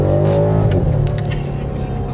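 A diesel car accelerates with a loud, steady engine drone that holds close and sustained through the whole moment, with no other sounds over it.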